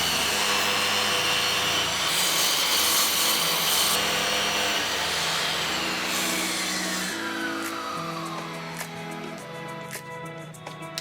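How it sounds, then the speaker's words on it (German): Thick 70 x 70 mm wooden beams are cut into many parts for a garden lounge, a loud continuous power-tool saw whine running throughout with a pitch that shifts as the blade works through the wood. "in einem ersten Schritt geht es darum, sehr, sehr viele Teile zuzuschneiden"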